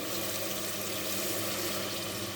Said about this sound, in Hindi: ये अब इसमें चला गया पानी। मैं ऑलमोस्ट 2 गिलास पानी के डाल रही हूँ।